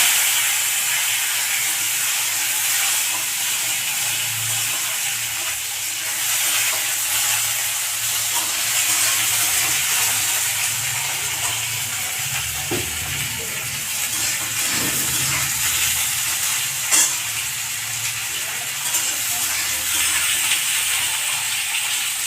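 Potatoes hit a hot pan of oil tempered with whole dried red chillies and cumin. They fry with a steady, broad hiss and sizzle, broken by occasional clinks and stirring.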